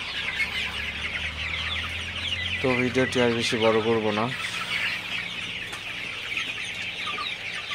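A busy flock of Sonali super hybrid chickens clucks throughout, with a few louder, harmonic calls in the middle and someone talking over them, on a poultry farm.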